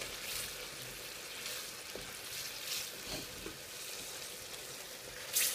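Madras curry sizzling and frying in a pan, a steady crackling hiss with occasional stirring clinks and scrapes, close and continuous with no talking.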